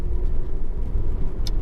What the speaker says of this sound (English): They are, very nice and quiet cars on the move.